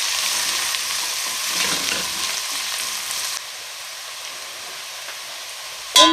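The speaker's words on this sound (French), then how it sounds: "on va mélanger." Sweet potato soup ingredients are stirred in a pot, a steady hissing sizzle that softens partway through, ending in a sudden loud clatter.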